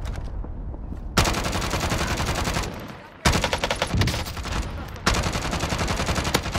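Heavy automatic gunfire in the Warzone video game, loud rapid bursts of shots in several long strings with brief gaps, close and dense, with no talk over it.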